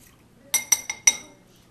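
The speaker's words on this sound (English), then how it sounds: "Adding the milk and the fat for tenderness. And again, mixing those together." A wire whisk mixes milk and fat in a bowl for muffin-method pancake and muffin batter, giving four sharp metallic clinks in quick, uneven succession against a quiet background.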